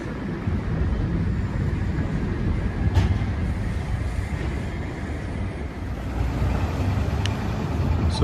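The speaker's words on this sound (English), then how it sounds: "So return I have to take this eastbound train." Valley Metro light rail train in Phoenix, heard as a steady low rumble of rolling wheels and a running motor, with a couple of faint high squeals, running unbroken and fairly loud from start to finish.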